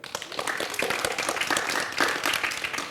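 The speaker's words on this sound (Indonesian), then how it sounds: "Ya, tepuk tangan dulu." Children clap together during a storytelling session, a short ragged burst of hand claps that rises quickly, stays fairly close and fades out within a few seconds.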